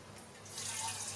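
Water poured into a cooking pot of rinsed, fried rice, a soft splashing pour that swells louder partway through and runs steadily to the end.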